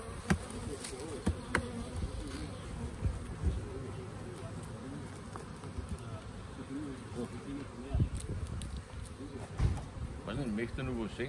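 Honeybees buzz continuously around an opened hive during a honey harvest, a close, wavering drone with occasional louder passes near the listener.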